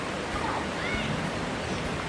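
Strong ocean waves break on a beach at a resort in Rayong, Thailand, as a steady, dense roar of surf and wind noise with no distinct pauses.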